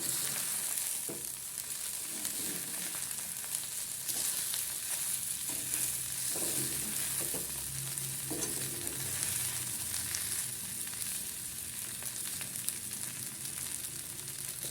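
Sabudana khichdi, made with tapioca pearls, cooks in a pan with a steady low sizzle and occasional soft stirring scrapes, close and continuous throughout with no voices.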